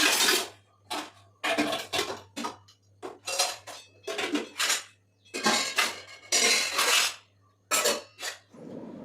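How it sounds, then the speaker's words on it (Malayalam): Washed dishes, pots and cutlery being put away in a home kitchen, a close series of loud metallic clanks and clinks in irregular bursts with short pauses between. "അമ്മ കഴുകി വെച്ച പാത്രങ്ങളൊക്കെ ഒന്ന് ജസ്റ്റ് അതിൻ്റെ അവിടെ എടുത്ത് വയ്ക്കുക"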